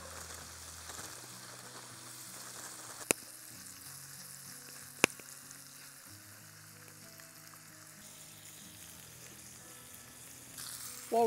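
Bacon and Spanish sweet onion fry in butter in a pot while cooking in the Canadian backcountry, a soft continuous sizzle with a couple of sharp ticks and a louder clatter at the very end.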